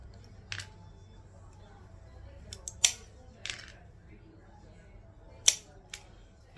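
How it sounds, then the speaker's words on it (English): Snips from cutting 12mm mirror circles in half for a mosaic: a few sharp, isolated clicks and crunches spaced seconds apart over a quiet room background. "I'm just going to cut in half"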